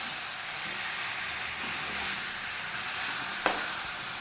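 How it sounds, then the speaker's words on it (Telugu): Masala-coated pieces of fresh fish fry in a little oil, a steady loud sizzle and hiss with a brief sharper crackle near the end. "ఇలా ముక్కలకి బాగా మసాలా పట్టించి కొంచెం ఆయిల్లో మగ్గనిద్దామండి"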